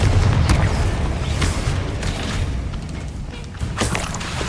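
Confringo fire-blast spell in Hogwarts Legacy on PS5: a heavy, booming explosion with deep rumbling that stays loud and sustained, followed by lingering low roar and scattered crackles.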